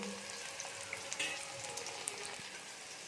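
Potatoes with salt and turmeric fry in a pan, giving a faint, steady crackle and sizzle with scattered small pops and no speech.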